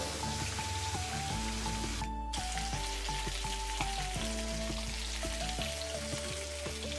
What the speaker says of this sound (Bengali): এখন আমরা এই মাছটাকে ভাজবো।